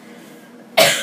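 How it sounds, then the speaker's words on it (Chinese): A pregnant woman about twenty weeks along, sick with a month-long cough and cold, lets out a single sharp, close cough right at the end of a quiet stretch. "蛮习惯妈妈的咳嗽声音的"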